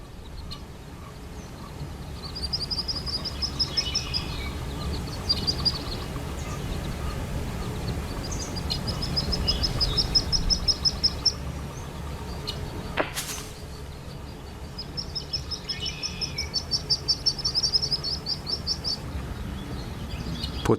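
A mandarin duck mother gives repeated high, rhythmic calls to her ducklings, coming in several bursts with short pauses between them over a steady low background.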